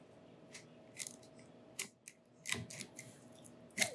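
A cable tie gun pulls a cable tie tight while routing motor and encoder cables, giving a series of short, sharp clicks and snaps at uneven intervals, fairly quiet and close.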